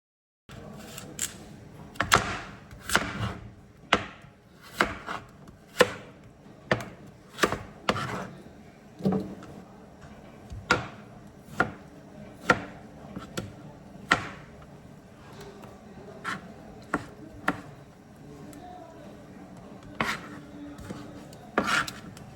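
Rapid knife chopping of vegetables on a cutting board in a home kitchen, a steady run of sharp, close taps with brief pauses, then faster bursts toward the end, no talking.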